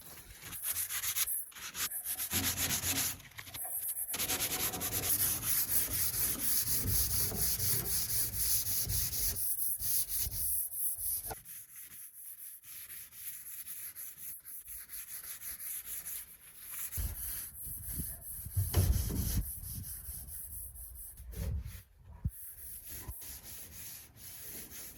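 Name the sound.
hand sanding a boat with soft sandpaper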